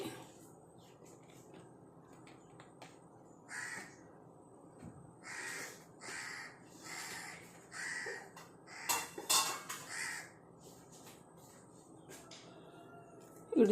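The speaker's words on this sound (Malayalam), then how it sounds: "കാക്ക അങ്ങനെ വരണമെങ്കിൽ എന്തെങ്കിലും കാണാണ്ട് കാക്ക വരില്ല" Crows give a run of about seven harsh caws in fairly even succession, clear against a quiet outdoor background, with a couple of sharper calls near the end.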